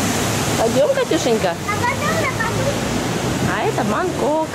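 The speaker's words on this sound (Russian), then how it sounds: "Это водопад, смотрите, это водопад." A waterfall in Bangkok sends out a steady rushing hiss under close conversation, with an adult and someone talking over the constant water noise.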